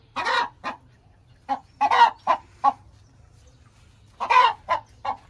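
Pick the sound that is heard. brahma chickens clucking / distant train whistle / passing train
brahma chickens clucking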